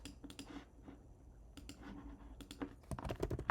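Rapid clicks on a computer keyboard come in irregular bursts, quiet and close, with a quicker flurry of keystrokes near the end.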